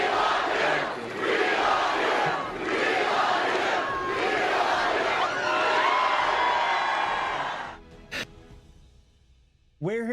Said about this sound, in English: you actually heard mass crowds screaming, chanting, "We love you" to the president?